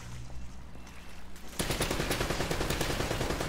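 Enemy gunfire in the game Uncharted, a loud sudden burst of rapid shots that breaks in after a quiet stretch and keeps up densely to the end, close and alone with no talk.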